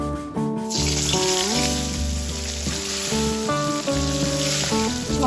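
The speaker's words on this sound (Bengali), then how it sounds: "এবার আমি এই মাছগুলো ভেজে নেব।" Fish pieces frying in hot mustard oil give a loud, steady, close sizzle that rises sharply and keeps crackling throughout, with a few faint clinks underneath.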